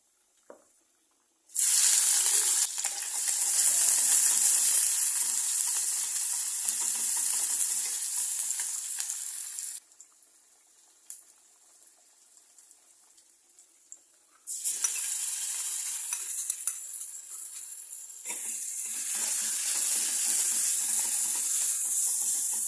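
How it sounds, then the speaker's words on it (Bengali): Fish sizzles and spits loudly in hot oil in a pan while being fried and sautéed, in long continuous bursts broken by a quieter stretch midway before the crackling resumes. "মাছগুলো আমি এখন কষে নেব"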